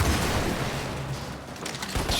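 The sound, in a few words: explosions in a video game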